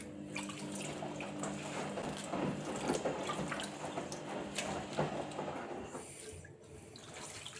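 Spinach leaves swished and pressed down in a basin of water, giving a steady, close wash of splashing and sloshing with small drips, fairly quiet and continuous, no talking.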